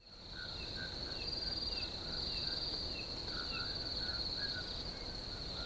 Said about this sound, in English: number 8 cricket sound number 2 is this